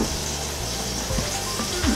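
Swiss steak browns in a hot skillet with a steady, loud, close sizzle and crackle of frying, continuous throughout with no talking.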